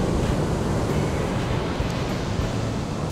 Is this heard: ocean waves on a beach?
yes